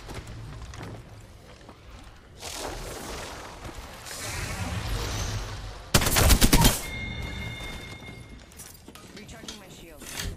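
Weapon fire in a shooter video game with shields, a steady clatter of shots under ongoing talk, swelling into a loud, dense burst near the middle before easing back.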